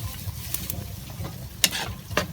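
Pakbet with beef cubes and shrimp paste frying in a pan, a soft steady sizzle broken by several sharp scraping stirs of a utensil.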